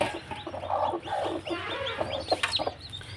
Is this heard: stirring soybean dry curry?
no